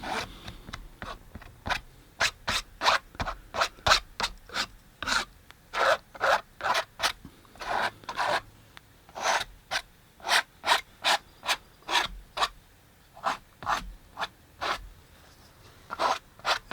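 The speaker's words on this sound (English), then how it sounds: "scrape off a little bit of really super thick paint that I see" A palette knife scrapes thick oil paint off a canvas while a wine bottle still life is painted, giving close, rhythmic rasping strokes, some twenty in a row with short pauses between them.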